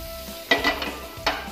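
Three tablespoons of butter melting and sizzling in a hot pan, a soft steady crackle with a few sharper bursts as it is stirred and spread around, close up and with no talking.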